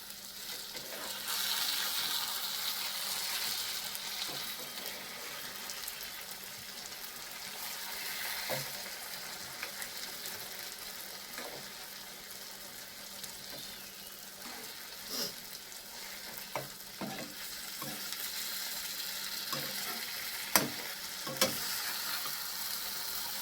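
Fish frying in a pan, a quiet continuous sizzle with occasional clicks and taps as the pieces are turned over, no voices.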